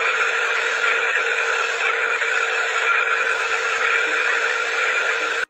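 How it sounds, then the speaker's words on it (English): Strange, steady droning pulse recorded from the Starliner spacecraft and played back, a continuous buzzing tone that holds at even loudness and cuts off abruptly at the end, with no talking. "Now that sound is specifically coming from the Starliner."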